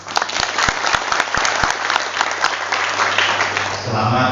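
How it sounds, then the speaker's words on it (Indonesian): Loud applause from an audience at a regional organisation meeting in Papua, steady dense clapping with a few sharp claps standing out, continuing throughout with a voice coming in near the end. "luar biasa, tepuk tangan"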